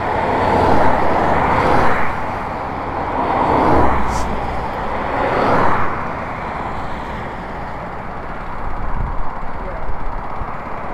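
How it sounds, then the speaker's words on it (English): Traffic on a road slows past in swelling waves of engine and tire rumble, several vehicles rising and fading over a steady roadway roar, with people talking nearby. "Most cars are slowing down."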